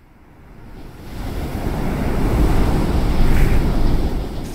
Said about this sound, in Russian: Я взял звук ветра, разбил на гранулы и закрутил вокруг головы.